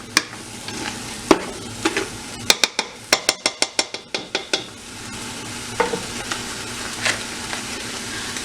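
Meat browns in a pot for chili with a continuous sizzle, while a spoon scrapes and clinks against the pot in a quick run of sharp, rhythmic knocks, then occasional taps.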